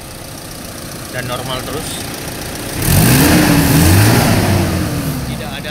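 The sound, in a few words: car engine revving as throttle is applied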